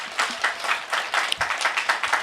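Outdoor crowd at an American Freedom Day Tea Party rally in Hopkins County breaking into applause, a dense, steady wash of clapping from many hands spread across a couple of seconds, fairly close and uninterrupted.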